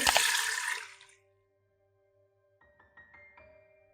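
Water poured into a pressure cooker holding potatoes, a short loud gushing burst for about a second, followed by quiet and faint kitchen clinks.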